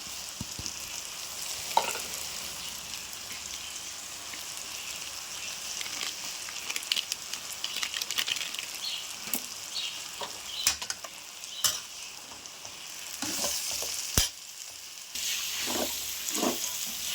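Vegetable fried rice with masala powder being stir-fried in a pan, giving a steady close sizzle broken by repeated scraping and clattering stirs of a spatula, with no voices.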